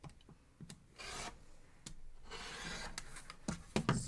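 Quilt block fabric being trimmed on a cutting surface, with soft rubbing and scraping strokes, short taps and a couple of longer drawn cuts, close and quiet.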